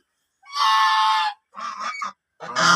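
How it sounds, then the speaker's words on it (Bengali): Drakes of a good, long-bodied duck breed on a farm give three loud, nasal honking calls in close succession, separated by short pauses, with no talking. "আমার ছেলে হাঁসগুলো দেখেন"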